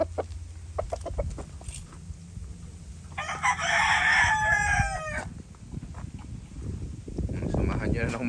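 Bull stag rooster crowing in a backyard, one loud clear crow of about a second and a half, with someone talking before and after and faint farm ambience around it.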